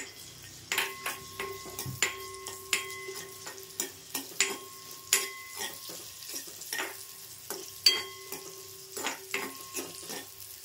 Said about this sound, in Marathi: त्यात थोडेसे मी काजू आणि बदाम असं कापून घेतलेत. थोडे आता तळायला घेते